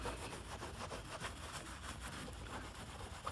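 A cloth-wrapped sponge rubs adhesive tape residue off a car body, giving a steady, close scrubbing rasp with quick repeated strokes throughout.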